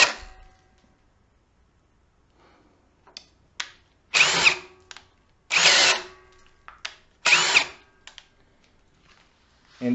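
A Ryobi HP One Plus cordless drill with an HP battery and a 1.25 inch spade-type speed bore bit whines in several loud, close bursts of a few seconds each, separated by short pauses and faint clicks.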